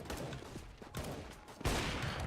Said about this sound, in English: What is my bot shooting at? He's shooting at the ground.